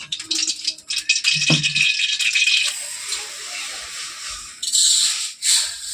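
Potato and cauliflower pieces fry in hot oil in a wok with a loud, close sizzling hiss and rattle that eases off midway, then flares up again in short bursts.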